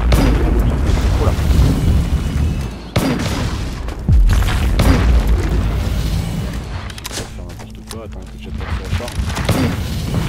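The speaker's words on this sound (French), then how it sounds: "tout droit c'est la grenade part et elle explose" A launched grenade explodes in the online shooter Firefall, its deep booms and blasts landing amid dense, loud game noise that continues throughout.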